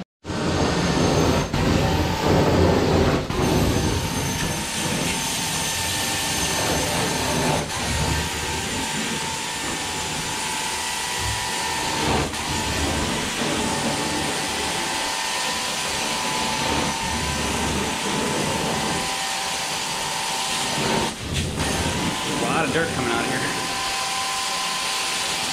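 A CRB carpet cleaning machine runs steadily in a dirty rental bedroom, a loud continuous motor drone with brushing texture lasting throughout, with a few brief bumps and shifts.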